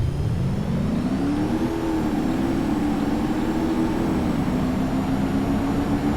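A Ford 6.0 Powerstroke diesel truck in BeamNG.drive accelerates hard, its engine drone rising and settling in a steady, loud roar that holds throughout with no pauses.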